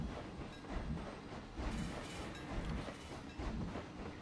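A train ride in the Planet Coaster video game, with a continuous rumbling roll of wheels on track and faint rhythmic clatter, moderately loud and steady throughout with no voices.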